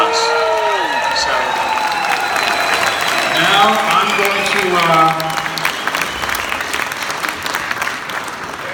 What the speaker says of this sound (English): Let's just have a round of applause for how magical Teddy really was